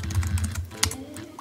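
Computer keyboard keys tapped in a quick, uneven burst while a word is entered into a lower-thirds graphics template, close and moderately loud with no voices.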